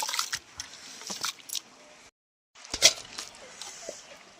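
Soaked kalale bamboo shoots being washed by hand in water, with wet squishing, splashing and dripping in irregular close bursts, broken by a brief silent gap before sharper sloshes resume.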